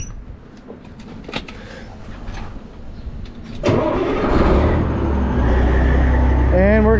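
A farm truck's engine cranks and catches after a few seconds of rustling and brief talk, then settles into a loud, steady idle that rumbles on to the end.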